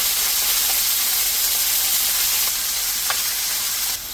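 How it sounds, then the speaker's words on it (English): Pork for pozole sears in hot oil in a pan, a steady close sizzle and hiss filling the space with a few faint clinks and pops, no voices. "You just want to give it a good sear on each side."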